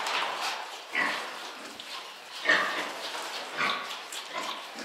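Pigs on a farm, including sows, grunt and snuffle in repeated rough bursts, fairly close and loud, with overlapping calls from several animals and no speech.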